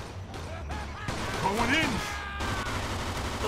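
Gunfire rings out in Mafia 2 as the player lands headshots, a few distinct shots mixed with game effects, while a voice speaks briefly over the action.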